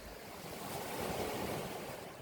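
Ocean waves wash steadily against rocks in an autumn outdoor setting, a continuous broad surf roar that swells slightly mid-way, with light wind noise and no voices.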